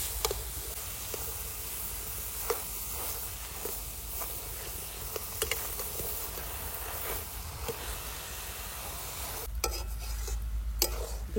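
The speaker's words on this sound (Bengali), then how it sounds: "এবার দিয়ে দেবো বিট আর গাজরটা। হালকা একটু ভাইজে নিয়ে বেরোবো।" Chopped beetroot and carrot stir-fried with spices in a pan, giving a steady soft sizzle with repeated scraping stirs of a spatula, close and continuous, with a few louder clatters near the end.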